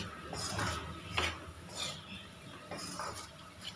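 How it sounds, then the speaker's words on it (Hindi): Spatula scraping and stirring gram flour (besan) as it roasts in a pan, a soft, irregular scrape-and-shuffle repeating every second or so, close-up and fairly quiet with no talk over it. "बेसन को आठ मिनट तक अच्छे से भून लेना है"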